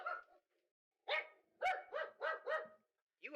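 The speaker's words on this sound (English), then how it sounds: "You heard my dog." A dog barks in a quick series of sharp, close barks, a single bark first and then four in a row, with brief silences between them and nobody talking.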